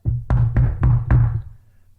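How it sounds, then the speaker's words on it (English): A knuckle raps on an old wooden door: four firm, evenly spaced knocks, close and resonant, with a short ring-out after the last. "A brooded old wooden door bears the knuckle of a servant as he begins to knock"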